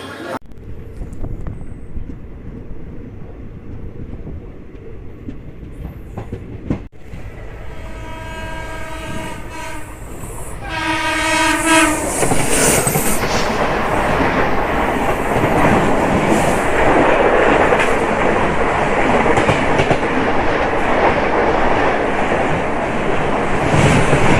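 The Palaruvi Express passenger train pulls into Ernakulam Town station, sounding a long, loud horn midway, then rolling close by with a sustained rumble and clatter of wheels on rails.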